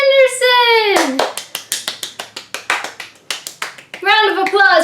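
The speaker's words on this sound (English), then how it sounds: "Round of applause for Brandon Sanderson." One person claps steadily, about fifteen sharp, evenly spaced claps up close, applauding author Brandon Sanderson, with a voice speaking just before and after.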